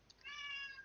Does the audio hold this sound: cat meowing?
yes